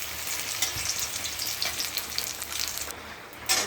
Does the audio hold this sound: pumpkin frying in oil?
yes